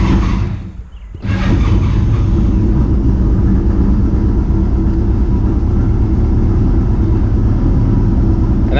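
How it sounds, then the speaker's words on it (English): A Pulse autocycle engine turns over and catches after a brief pause, then settles into a loud, steady, close rumbling idle that runs on without break. "first start of the vehicle"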